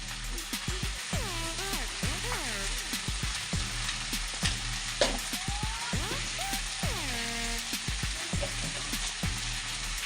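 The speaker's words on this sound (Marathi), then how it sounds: "आपण टाप कढाईमध्ये नूडल्स ॲड केलेले आणि आता हलवून घ्यायचं थोडंसं" Noodles stir-fried in a hot kadai, a loud close sizzle and crackle of frying with repeated scraping and tossing clatters of a utensil against the pan, no voices.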